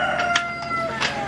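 Several roosters crow and cluck in quick bursts nearby, a lively farmyard chorus with no talking.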